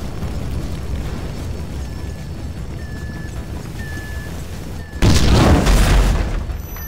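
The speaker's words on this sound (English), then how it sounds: "That explosion must have knocked me out" In GTA V, an explosion hits with a sudden loud, broadband boom partway through, then fades into a rumbling tail after several seconds of quieter background ambience.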